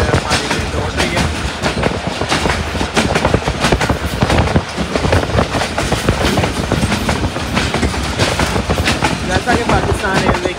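The 246dn Malkwal Express of Pakistan Railways runs an early-morning Mandi Bahauddin to Pind Dadan Khan branch line at about 50 to 60 km/h. A loud, steady, close rumble with continuous clickety-clack wheel clatter fills the whole stretch.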